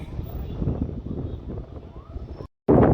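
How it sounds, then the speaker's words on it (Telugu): Wind blows across a hilltop on the Bhujiyo Hill trek, a low buffeting rumble against the microphone that cuts out briefly before returning. "సో దిగడం అయితే చాలా హాయిగా గాలి వేస్తుంది."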